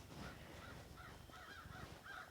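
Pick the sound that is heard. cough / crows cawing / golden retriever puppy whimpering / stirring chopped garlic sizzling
crows cawing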